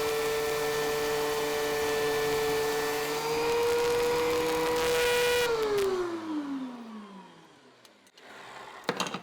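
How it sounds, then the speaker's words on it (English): A lunchbox planer runs a board through its cutters as a steady, loud whine, then winds down after the board clears, leaving a quieter room with a few faint clicks at the end. "Now we'll run it through the planer again and measure it once again."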